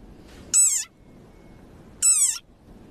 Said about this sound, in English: this is the sonorous war cry of a very angry frog